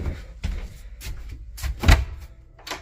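Door opened inside a 2005 Winnebago Aquila RV bedroom, a few short clunks and latch knocks at close range with no talk.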